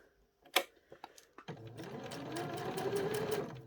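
A sewing machine stitching felt applique numbers runs in a steady, even hum after a few soft clicks and taps of setup at the start, close and fairly quiet.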